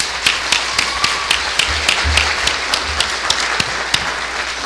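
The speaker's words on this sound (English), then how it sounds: "Let's give them another round of applause" An audience claps after a children's Christmas program, a dense and lively applause from many hands held at a steady level with close, sharp individual claps standing out.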